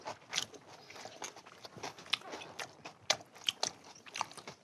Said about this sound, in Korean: 이 김치에다가 족발을 해가지고 한번 먹어보겠습니다